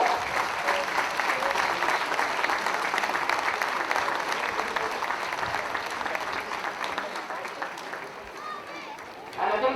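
Sustained crowd applause for a community football club after a Westmeath GAA senior football final, steady and dense for nearly ten seconds with some cheering mixed in, easing slightly toward the end.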